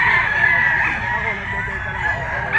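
A yellow-legged bull stag rooster of sweater bloodline crows continuously at a rooster grotto, a steady strained call held over light background murmur.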